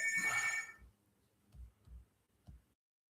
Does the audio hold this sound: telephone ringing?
yes